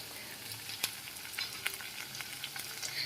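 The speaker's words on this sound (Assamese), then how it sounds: "এতিয়া গুটেখিনি মিক্স কৰি পিনে ধুনীয়াকৈ অলপমান ভাজি লম" Pork curry with tomatoes and ginger frying in a pan, a steady dense sizzle broken by scattered sharp pops and crackles, close and even throughout with no talking.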